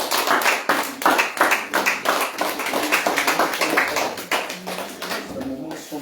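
A church congregation claps together in a steady, rhythmic beat during worship at a family gathering in the village of Dabakala, with the claps loud and close throughout and a faint voice underneath.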